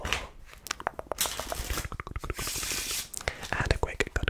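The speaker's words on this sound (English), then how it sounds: "Let's give the deck a quick shuffle." Rapid papery riffling and soft slaps of cards being shuffled, in a few quick bursts, close by and fairly quiet.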